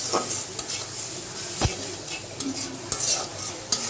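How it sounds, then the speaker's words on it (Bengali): Fried onions with turmeric, chili and salt being stirred in hot oil, giving close, repeated utensil scrapes and one sharp knock against the pan over a steady sizzle. "এখন আমি নাড়াচাড়া করে নিই"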